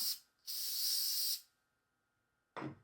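Hairspray from an aerosol can misted onto a synthetic wig: a short hiss, then a longer steady spray burst of about a second, a pause, and another spray starting, close and loud.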